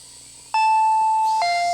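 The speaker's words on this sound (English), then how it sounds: "When I approached the front door, the doorbell rang. Ding dong." Two-tone ding-dong doorbell chime in the Higurashi visual novel, sounding once with a bright sustained first tone followed by a lower second tone, clean and close with no talk.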